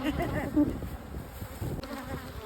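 Honey bees hum around a hive box in a close, continuous buzz with small swells and a soft knock, no talking.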